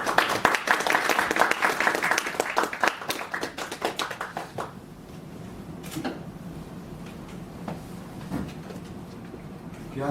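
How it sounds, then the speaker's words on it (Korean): An audience applauds at an author lecture in a bookstore, clapping loud and dense at first, then thinning into scattered claps and fading to sparse taps. "많은 박수 부탁드립니다"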